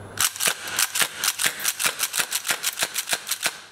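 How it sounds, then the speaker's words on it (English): VFC Fabarm STF/12 airsoft shotgun slam-firing as the pump is racked with the trigger held, giving a fast, even string of about fifteen sharp, close clacking shots and rattles with no talk. "you are able to hold down the trigger and just rack the pump, and it will keep shooting until you let go of the trigger"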